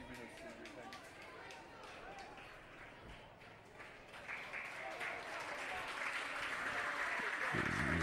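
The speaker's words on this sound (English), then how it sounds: "getting a good round of applause in all fairness" Crowd at a Gaelic football junior championship group match applauding a player, steady clapping that swells toward the end with commentary talk running over it throughout.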